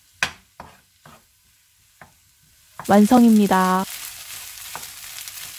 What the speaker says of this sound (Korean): 여기에 굴소스 1스푼만 넣고 잘 볶아주면